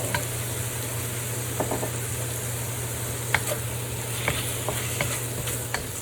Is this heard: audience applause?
no